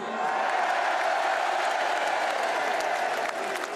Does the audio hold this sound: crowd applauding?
yes